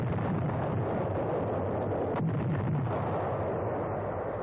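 Naval shelling and bombing pound the Tarawa beaches: a continuous distant rumbling roar with a single sharper blast near the middle and a crackling texture toward the end, with no voices.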